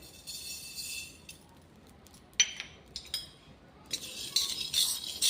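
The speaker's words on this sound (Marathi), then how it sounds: "यानंतर आता आपण करळ भाजून घेणार आहोत" Niger seeds (karal) being dry-roasted in a pan, heard as sparse metallic scrapes and clinks of a spatula against the pan between quiet gaps, no talk.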